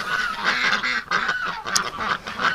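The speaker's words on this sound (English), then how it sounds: "if we can get a whole bunch of wild ducks and wild geese in here" Wild geese and ducks, lured in with corn on a winter day, give repeated nasal honks and quacks that overlap in an irregular chorus at moderate distance, with no talking.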